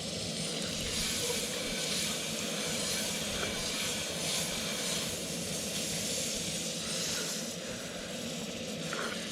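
Butter melting and sizzling in a hot pan on a stove out on the ice, heard as a steady, broad hiss that fills the whole stretch at moderate loudness, with a faint low rumble underneath.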